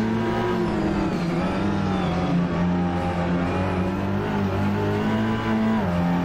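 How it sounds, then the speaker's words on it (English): Race car engine in the TCR racing game, screaming at sustained high revs near the limiter with a steady, dense harmonic drone throughout and no pause. "We over-revved the engine."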